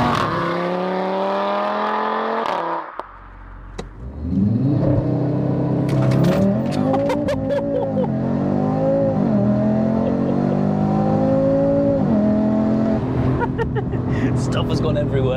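A 520bhp Audi RS3 8Y on PS4 tyres accelerates hard, its five-cylinder engine and exhaust rising and falling through repeated gear pulls, loud and close from inside the car, with people talking over the engine noise.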